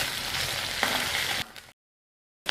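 Potato samosa filling fries in a pan with curry leaves and coriander, a steady close hiss and crackle that cuts off abruptly into silence before briefly returning.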